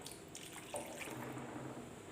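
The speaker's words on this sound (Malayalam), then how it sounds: "നമുക്ക് അല്പം വെള്ളം ഒഴിച്ച് കൊടുക്കാം" Water poured into a cooking pot while making a traditional dried prawn theeyal curry, a soft continuous splashing and trickling close by, with no talk.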